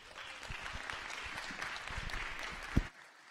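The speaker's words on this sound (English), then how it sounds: "how about we give them a round of applause?" Audience at a spring parent and family orientation applauds steadily for about three seconds, a dense wash of clapping that ends with one sharp louder clap before falling silent.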